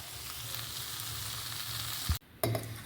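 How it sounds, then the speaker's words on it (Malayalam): Mango pieces sauté in a pan with a steady, quiet sizzle and light stirring, broken by a short thump and a sudden brief drop in sound before the frying resumes. "മാങ്ങയൊക്കെ നന്നായിട്ട് വഴന്ന് വന്നിട്ട് ഗ്യാസ് ഓഫ് ചെയ്ത് കൊടുക്കാം"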